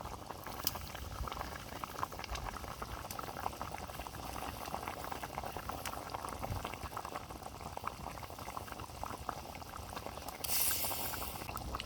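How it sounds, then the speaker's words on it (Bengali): Fish curry broth boils in a pot, a soft continuous bubbling and popping that stays fairly faint and steady, with no voices. "ঝোল ফুটে গেছে, মাছগুলো দিয়ে দেবো।"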